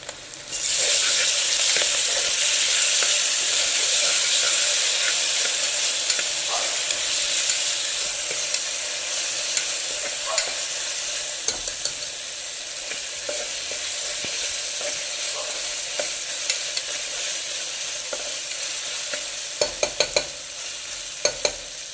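Onion and ginger paste sizzling and frying in a pressure cooker for aloo pulao, a steady loud hiss that eases slightly over time, with occasional stirring clinks and scrapes near the end.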